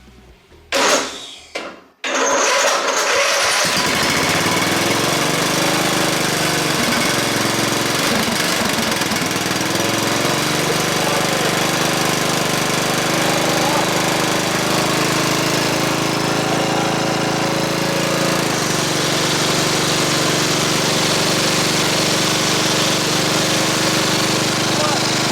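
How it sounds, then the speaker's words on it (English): A Craftsman LT4000 lawn tractor engine, rebuilt as a mud mower with a Peerless 820 transmission, sputters to life and then runs loud and steady at close range while the clutch is worked, a continuous rough mechanical drone. "We're gonna start it up and put it in gear and operate the clutch and just observe the belt."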